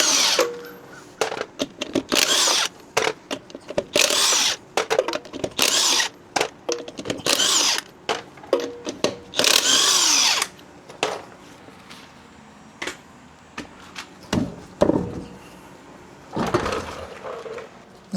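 An impact tool rattles in short loud bursts with pauses while a 21 mm socket pulls the wheel off a Ford F-150 pickup, with clunks and knocks of parts between bursts.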